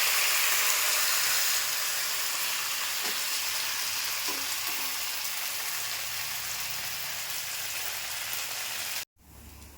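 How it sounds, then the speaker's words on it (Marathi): Ghavane batter sizzles on a hot oiled griddle (tava), a steady, close frying hiss that holds evenly for about nine seconds before cutting off abruptly. "घावणे करून घेते ना हो आता घावणं टाकते तव्यावर"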